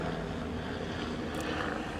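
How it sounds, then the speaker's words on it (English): A helicopter passes overhead as a broad, steady whooshing drone with rotor rumble, moderately loud and continuous, no talking. "Let this plane go by. Helicopter, actually."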